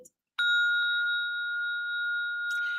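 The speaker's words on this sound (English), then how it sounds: "And the merry bells are ringing." A single bright electronic chime strikes and rings on as a clear sustained tone, close and alone in a quiet room.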